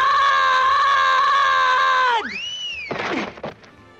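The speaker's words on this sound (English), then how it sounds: "One of the most memorable bits from the Peanuts series is Charlie Brown's scream." A voice lets out the iconic Charlie Brown scream from the Peanuts cartoons, a loud, sustained wail held for about two seconds before breaking into a falling cry and shorter ragged shouts.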